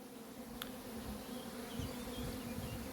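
Honey bees are shaken off a frame at a hive, giving a soft, steady, low buzzing drone with no voices.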